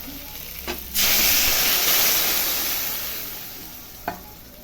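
Liquid poured onto frying spice paste with potato and papaya for a pabda fish curry bursts into a loud, steamy hiss that slowly fades. Light clinks of utensils come just before and after.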